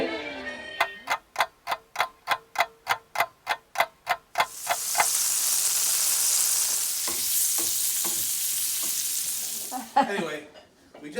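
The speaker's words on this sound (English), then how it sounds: "we just finished sauteing the onions and the mushrooms" Onions and mushrooms sautéing in olive oil for beef bourguignon, opening with a quick run of regular sharp ticks, then a loud steady sizzle for several seconds before scraping stirs near the end.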